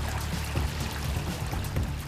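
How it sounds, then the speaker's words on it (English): Water pours steadily into a large steel tank, a continuous broadband rush with gurgling surges, loud and close, with no voices. "It will take several hours to fill the tank."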